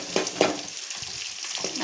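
Small and large onions with garlic sauté in hot oil after mustard seeds have spluttered, for banana flower chutney: a short, close crackling sizzle with a few sharp pops and stirring scrapes.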